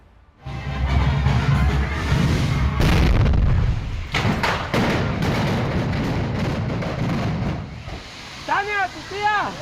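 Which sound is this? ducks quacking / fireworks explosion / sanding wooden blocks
fireworks explosion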